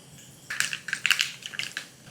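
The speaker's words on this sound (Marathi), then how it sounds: "मोहरी मस्त तडतडायला लागली" Mustard seeds pop and splutter in hot ghee in a kadhai, a burst of quick, sharp crackles starting after a quiet moment and continuing irregularly, close and moderately loud.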